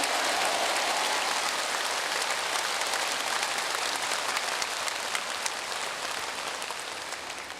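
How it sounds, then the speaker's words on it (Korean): A large church lecture audience in an arena-sized hall applauds loudly, a dense, hissing wash of many hands sustained for several seconds and slowly fading toward the end. "박수 한번 크게 쳐 올리시기 바랍니다"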